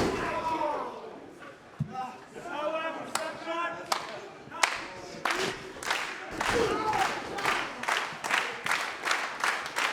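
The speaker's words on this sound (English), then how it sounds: "Crowd looking to rally Moretti here." A wrestling crowd at a live event claps in a quickening rhythm, the sharp claps building toward the end under steady commentary and ring thuds.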